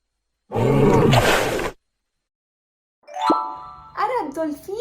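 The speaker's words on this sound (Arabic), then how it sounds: "إنه دب." A bear gives one loud, rough roar lasting about a second. After a short pause come higher, warbling vocal sounds.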